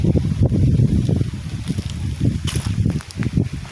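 Strong wind gusting through a mango orchard during bad weather, a low, rumbling roar of buffeting air that surges and eases in close, uneven bursts, with no voices.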